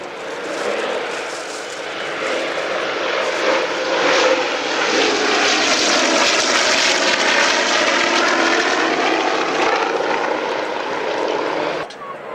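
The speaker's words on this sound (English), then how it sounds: "Powered by 4 Pratt & Whitney R2800 engines." A large four-engine piston plane powered by Pratt & Whitney R-2800 engines roars past at an air display, its propeller drone swelling loud and holding steady before fading slightly; a voice talks faintly beneath.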